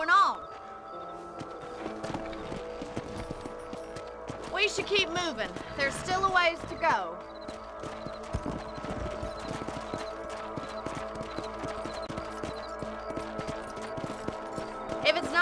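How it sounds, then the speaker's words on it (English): Horse hooves clip-clop steadily at a riding pace in Red Dead Redemption: Undead Nightmare, a moderately loud rhythmic patter under game music and a voice talking, with a brief whinny-like sound partway through. "Let's get back on the horses and see what else is going on."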